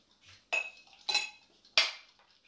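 A metal spoon scooping duck and blackcurrant sauce into a bowl, three distinct close clinks of spoon against the dish with faint scraping between them, with no voices.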